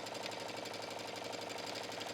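A home sewing machine stitching a seam on a denim shirt dress, running in reverse for a back stitch with a steady, rapid mechanical chatter at close range.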